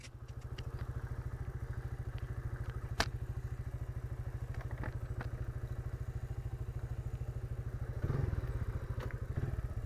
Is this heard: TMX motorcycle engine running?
yes